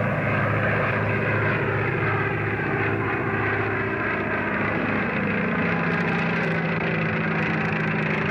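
A propeller crop-duster airplane engine drones steadily and loudly throughout, a continuous rumbling hum with a slight shift in tone near the end.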